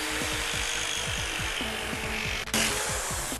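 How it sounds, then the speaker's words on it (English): A jigsaw cuts a circle out of a wooden board for a homemade hovercraft, with a loud, steady, buzzing saw drone throughout, rapid rasping strokes, and a brief dip and surge in intensity near the end. "now we get to use the jigsaw to cut the circle out."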